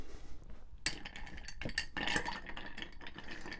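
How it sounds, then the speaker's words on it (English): A Stinger cocktail with crème de menthe being stirred, a bar spoon clinking and scraping against the glass in quick, irregular taps, close up and fairly quiet. "when you're stirring a drink, you stir it 40 times"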